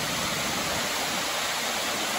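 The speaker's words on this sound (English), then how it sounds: "waterfalls" A waterfall on Bohol island in the Philippines gives a steady, dense rushing roar of falling water that stays even and unbroken throughout, with no voices.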